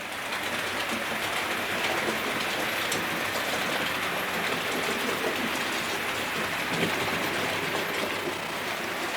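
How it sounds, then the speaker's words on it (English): A steady, continuous rumbling rush of a model railway train running on track, with a faint rattling texture and no pauses throughout. "Once you've got a model railway up and running"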